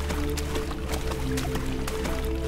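Splashing footsteps through shallow water in a horror video game, several wet, squishy steps in quick succession over a steady low drone.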